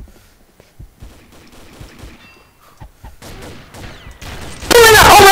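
A super shorty shotgun in the Combat Arms shooter game fires amid scattered gunfire and footsteps, with one loud close blast erupting near the end after quieter battle noise.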